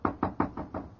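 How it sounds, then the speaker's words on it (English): Five evenly spaced knocks rap on an office door, a quick steady series of hollow wooden thuds heard close and clear with no talk over them. "I'd better knock."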